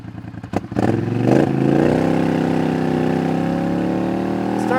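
A Polaris Sportsman ATV fitted with an MBRP 5-inch single slip-on exhaust fires up with a few sharp blips, then holds a loud, deep, steady rev with a throaty rumble close by.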